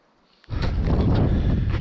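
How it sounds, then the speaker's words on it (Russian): A strong northerly spring wind by a lake and bog bursts in abruptly after a brief quiet moment, then roars and buffets the microphone loudly and continuously. "Сегодня ветер, сильный ветер, погода изменилась."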